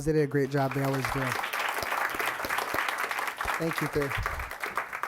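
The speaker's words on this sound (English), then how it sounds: "Can we give them one more round of applause?" Board of education meeting audience breaks into a round of applause, a steady crowd clapping that rises under a speaker's voice at the start and end, with the talk near and the clapping filling the room.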